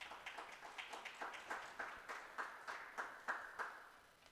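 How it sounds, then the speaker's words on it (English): A small audience at a boys basketball showcase claps for the coach in a steady, rhythmic patter of fairly faint claps, roughly three per second, without talk. "Give a round of applause for Coach"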